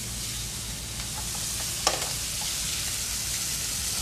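Food sautéing in a restaurant kitchen pan gives a steady, close sizzle throughout, with a few light stirring clicks and one brief sharp scrape near the middle; no one speaks.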